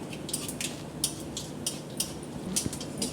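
Cumin is stirred in a metal pan while cooking mutton kosha, with a spatula making repeated light clinks and scrapes against the pan at an uneven rhythm, close and fairly quiet.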